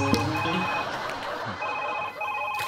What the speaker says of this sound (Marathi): बायकोचा फोन सर